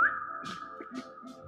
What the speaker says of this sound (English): Just whistled for him to find us.